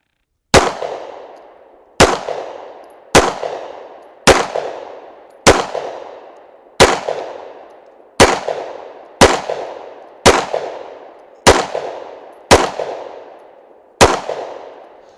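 Eleven sharp, loud shots from a Sig P365 pistol at a shooting range, fired at a slow, roughly even pace, each crack followed by a short decaying echo.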